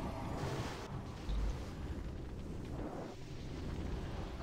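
Mobs blow up in a video game with loud, rumbling blasts, one heavier burst standing out near the start, over a continuous dense roar of game noise.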